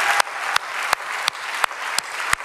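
A church congregation claps in a steady, even rhythm, sharp individual claps landing roughly every third of a second over a bed of crowd noise, close and loud.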